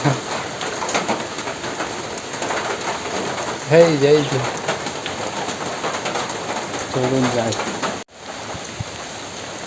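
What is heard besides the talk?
light rain falling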